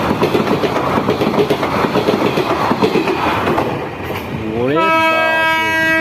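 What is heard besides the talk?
Lalgola-Sealdah passenger train passing and overtaking a local train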